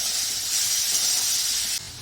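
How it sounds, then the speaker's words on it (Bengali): Grated tomato dropped into hot oil with fried onion paste, a loud close hissing sizzle that holds steady and then drops abruptly to a softer crackle near the end. "ঘষে দিয়ে দিলাম টমেটোটা"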